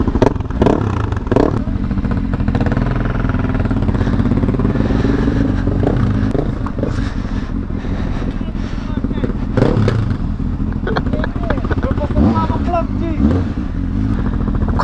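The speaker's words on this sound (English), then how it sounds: "Quite excited to see my bike being ridden from the third person" A motorcycle is ridden nearby through traffic, with a steady engine drone and some revving and clatter heard throughout, and a voice talking over it.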